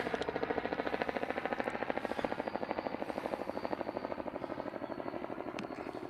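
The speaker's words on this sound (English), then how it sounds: "Helicopter." A helicopter's rotor chops in a fast, steady rhythm, moderately loud and constant throughout, with no talking.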